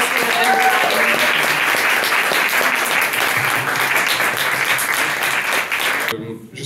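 Dense applause from the audience at the close of a panel discussion on climate reparations from Germany to Cameroon. It fills the room steadily for about six seconds, then cuts off abruptly.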